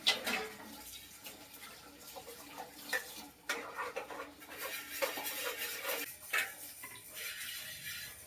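A spoon scrapes and clatters against a bowl while grated coconut is mixed with onion and chili, giving irregular clinks and rubbing bursts at close range with no talking.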